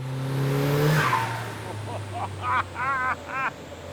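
A turbocharged car engine on a dyno with boost turned up drones and rises, then falls away, followed by short squealing, whistling bursts. Speech is faintly mixed in.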